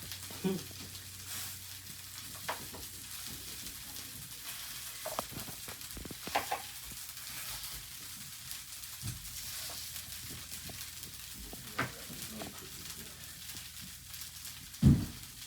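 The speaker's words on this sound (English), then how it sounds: "he in here making liver puddings on the Mac griddle" Liver puddings frying on a griddle, giving a soft steady sizzle close by, with occasional scrapes and clunks and one sharper knock near the end.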